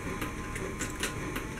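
A sewing machine stitches a double-stitched leather gun belt, giving a quick run of rhythmic mechanical clicks and thumps close by, with no voices.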